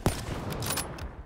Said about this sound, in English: Underwater gunfight, it seems like.